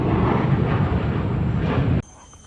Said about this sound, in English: This guy's just vibing with the fighter jet noise going on all around.